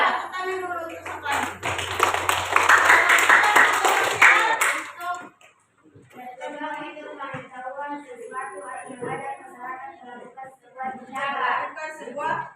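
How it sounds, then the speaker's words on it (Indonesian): A room full of people claps loudly for about five seconds, then the applause stops and a voice starts talking. "Tepuk tangan dulu untuk siapa?"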